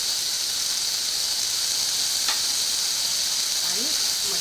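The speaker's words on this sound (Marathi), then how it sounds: "शिमला मिरची घालून घेते" Capsicum sizzling in a pan with other vegetables while making a mixed vegetable kurma, a steady hissing fry throughout with a faint clink and light stirring toward the end.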